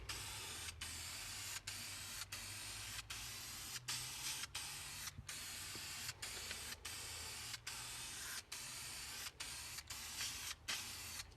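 Dupli-Color vinyl and fabric spray paint applied in white over a black surface, a series of quiet hissing aerosol bursts separated by brief gaps, repeated rhythmically about a dozen times.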